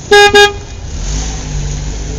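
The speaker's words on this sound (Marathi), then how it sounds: "हायवेवरूनच जाणाऱ्या एका ट्रकच्या हॉर्नच्या आवाजाने" Two loud, short honks from a truck horn on a highway blare up close, followed by the steady rumble of engine and road noise.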